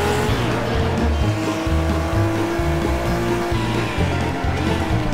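Race cars in Wreckfest roar together with loud, steady engine drone and pulsing gear-shift rhythm, close and continuous, with faint tire noise underneath.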